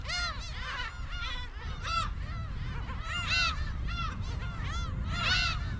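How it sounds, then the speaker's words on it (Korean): Repeated nasal, mewing cries of female black-tailed gulls in bursts during mating season, several birds calling close by with short pauses between clusters. "몸집이 작은 암컷의 울음소리는 짝짓기할 준비가 됐다는 신호다"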